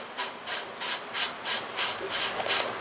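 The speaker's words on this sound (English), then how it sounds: "snug it up with a small wrench" A small wrench snugs a union nut on a French horn fountain, giving a close, steady run of short rasping, scraping strokes at an even rhythm.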